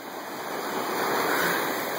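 Ocean water at a beach in Cabo San Lucas gives a steady, close wash of surf noise with no speech over it.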